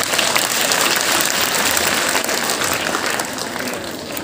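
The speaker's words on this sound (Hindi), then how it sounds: "एक बार तालियां हो जाए" Audience applause for a schoolchildren's program at a girls' school Republic Day celebration: dense, steady clapping from a crowd, loud and sustained throughout with no pause, like heavy rain on a roof.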